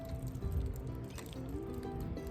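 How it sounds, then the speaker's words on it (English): Water flows from an outdoor garden spigot as it is turned on, a soft, steady liquid gurgle and squish with faint dripping, close by and without talk. "I'm gonna go a full 10 to 12 turns just to make sure it's on all the way and we get a nice flow of water"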